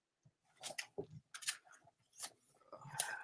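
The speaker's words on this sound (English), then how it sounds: "I'm just shuffling this deck real quick here." A deck of X-Files collectible game cards is shuffled by hand, with soft irregular riffling and flicking bursts close by, quiet and with no voices.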